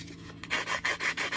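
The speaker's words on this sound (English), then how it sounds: "or your emery board and sand it down so that it's nice and even" An emery board rasps across a small wooden trunk from a 1:12 scale miniature kit, starting with light scratching and then settling into five or six quick, close back-and-forth strokes.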